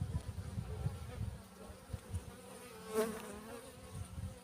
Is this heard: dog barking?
no